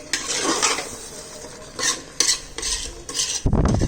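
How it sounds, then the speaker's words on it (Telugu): A spoon scrapes and clinks through chicken biryani mixed with dry coconut powder in a metal pot, several close, separate stirring strokes with light sizzling between them and no talking. "కొబ్బరి వేసాను కదా, చూడండి ఇలా కలుపుతున్నాను"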